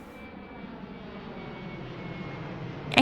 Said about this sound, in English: the plane started humming loudly without warning